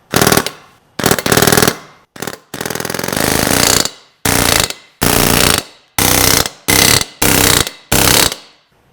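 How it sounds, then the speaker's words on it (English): A power driver with a stop runs bolts down on Chevy 283 Power Pack cylinder heads, whirring in about ten loud bursts, each ending with a sharp cutoff as the bolt seats, with brief pauses between. "I have this stop on my driver so I can just run them all the way down"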